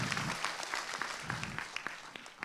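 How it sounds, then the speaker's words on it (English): Scattered audience clapping at a business conference fireside chat, a brief, thin round of hand claps with a few sharper individual claps standing out, moderately close and fading toward the end. "All right, applause."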